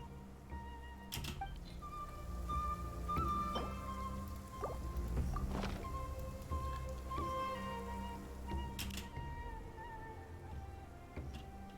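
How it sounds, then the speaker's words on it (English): Rain falls in the video game Genshin Impact, heard as a soft, steady patter of drops on surfaces with occasional sharper droplet hits, faint and continuous beneath a quiet ambient music bed. "It rained as soon as I finished my soup."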